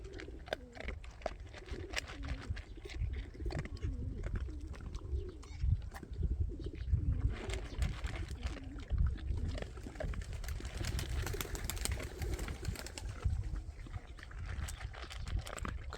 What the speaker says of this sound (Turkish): Kuşlar yine etraftalar, her yerdeler.